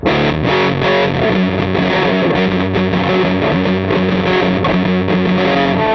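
A lap steel guitar in open D tuning, played through a distortion pedal, plays a continuous, thick, buzzing line with sustained notes, loud and close, with no voices.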